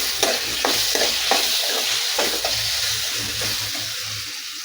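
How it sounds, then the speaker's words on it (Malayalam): Tomatoes are stirred into frying onions for a potato chicken curry, a loud steady sizzle with repeated wet scraping strokes of a spoon in the pan. "തക്കാളിയും കൂടെ ചേർത്ത് നന്നായിട്ട് മിക്സ് ചെയ്യാം"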